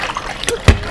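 Jell-O shot mixture is poured into a tray, a brief wet splash and trickle with a heavier splat near the end, close up, with faint voice-like sounds.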